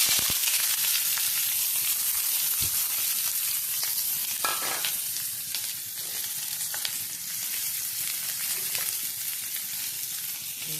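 Onion dropped into hot coconut oil with curry leaves, sizzling steadily and fairly loud, with occasional stirring clicks and scrapes.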